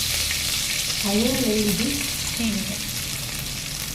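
Cumin seeds sizzling in hot butter for a dhaba-style paneer masala, a steady loud hiss and crackle filling the whole stretch while someone speaks briefly over it.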